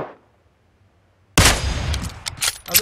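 Gunfire in the PUBG video game bursts in suddenly after a second of near silence, a loud dense volley of rapid shots with metallic clangs that continues to the end.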